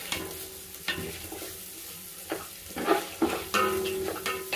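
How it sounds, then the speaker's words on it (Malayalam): Biryani masala frying in hot ghee in a pot, a close crackling sizzle punctuated by repeated scraping strokes of a spoon stirring, uneven in rhythm. "ചൂട് നെയ്യ് ഒഴിച്ച് കൊടുത്തിട്ടുണ്ട്."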